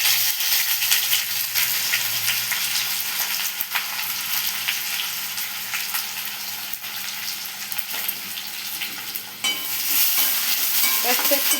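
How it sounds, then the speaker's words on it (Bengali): Chopped onion frying in hot oil in a wok with black cumin, dried chilli and bay leaf, a steady close crackling sizzle with scraping stir strokes throughout, no voices. "পেঁয়াজটা একটু ভালো করে গরম তেলের মধ্যে নাড়তে হবে।"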